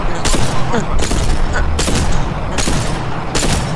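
Gunfire in the video game Apex Legends, four loud sharp shots spaced about a second apart, each with a booming tail, with faint voices in the background.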